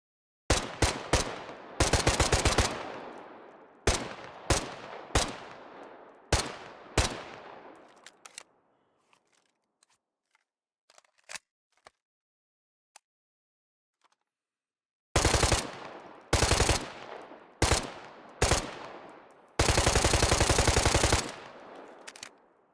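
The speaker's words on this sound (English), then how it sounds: "Now we get to the new rifle added to this patch, the Maoyuk bullpup rifle. It has a 30 round mag and fires the same caliber at a slightly higher rate of fire." Maoyuk bullpup rifle with a 30-round magazine firing in the video game Squad: loud bursts and single shots in quick succession, then a quiet stretch with faint distant clicks, then more rapid bursts including a long sustained volley.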